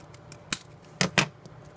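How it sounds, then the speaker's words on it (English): Short, sharp snips of a blade cutting open an eBay package: one crisp cut, then two more close together a moment later, near and alone with no talk. "We're gonna cut right on into this."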